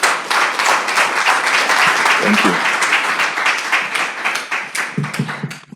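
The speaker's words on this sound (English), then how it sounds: "With a round of applause," An audience applauds to welcome a speaker at the launch of a national essay competition, steady loud clapping filling the room before it thins out at the end, with a brief spoken thanks heard over it.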